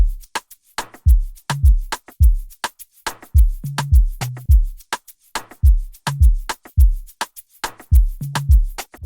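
Sampled toms in an Afrobeat remake hit in a punchy, repeating groove, each stroke a deep booming thump with a short pitched decay, sometimes doubled, with higher clicks between them, loud and clean with no voices.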